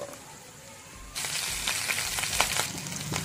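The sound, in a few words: green chilies frying in oil in a kadhai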